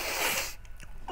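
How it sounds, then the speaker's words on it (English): One short, breathy sneeze burst heard up close, loud at first and then cutting off into quiet, with a faint sniff and a brief vocal sound after it. "that's not a good sneeze."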